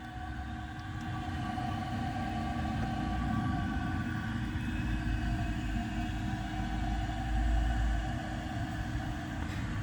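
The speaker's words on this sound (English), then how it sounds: "So let's see how the rinse is." Flushing 1981 Briggs Conserver concealed-jet toilet, a continuous low rumbling rush of water rinsing the bowl, steady and close, swelling slightly toward the end.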